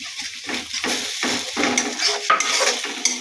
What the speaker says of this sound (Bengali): এইবার মশলা কষানো চলছে।